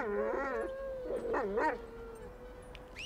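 Dog in the GTA V video game giving a series of whining, howling yips and whimpers with wavering pitch, fairly close and clear, with no speech.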